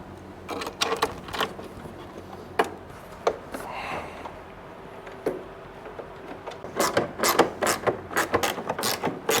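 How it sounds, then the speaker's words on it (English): A power tool drives the remaining screws inside an Indian Challenger motorcycle during an audio install, giving short ratcheting mechanical bursts in uneven clusters, loud and close, with quiet gaps between. "Now to get the remainder of the screws on the inside here."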